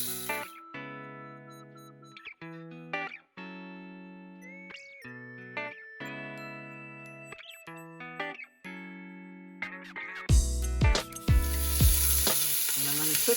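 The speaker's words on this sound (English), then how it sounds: "I'm going to cook these tenderloins till they're just done and cooked through" Chicken tenderloins sizzle in a thin layer of olive oil in a pot, a steady frying hiss with brief stirring clatters, swelling louder and brighter near the end as more meat hits the hot oil.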